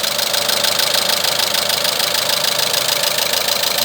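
Renault K4M petrol engine idling with a steady metallic knock, likely linked to a faulty cam phaser, close up and loud with an even rhythm and no talk.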